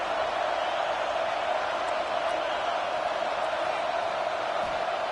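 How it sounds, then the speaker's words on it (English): A college football crowd at a Notre Dame versus Michigan game roars in a steady, unbroken wall of noise as the defense holds, with a sustained hum and no clear voices standing out. "The roar of the crowd trying to fuel this defense to keep them pinned in their own end"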